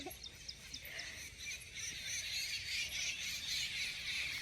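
Birds call steadily outdoors among green trees and plants, a bright, continuous chorus of chirps at moderate distance with no talking.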